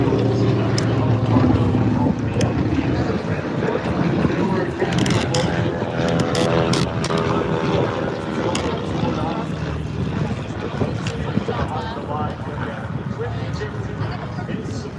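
A twin-engine Beechcraft C-45 Expediter Navy transport at a Houston airshow drones steadily with a continuous propeller roar, heard under an announcer's ongoing commentary.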